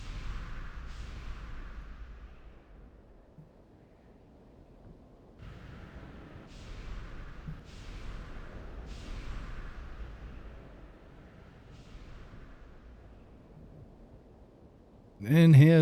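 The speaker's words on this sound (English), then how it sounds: "God, they are loud fireworks, those." Loud fireworks explode in the game Anarchy Online, a series of sharp bursts with crackling tails spaced a second or two apart over a steady low background, ending in a sudden louder blast.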